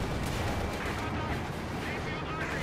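Dense, continuous battle noise from Company of Heroes 2, with gunfire and heavy tank cannon shots layered into a loud, unbroken roar of combat.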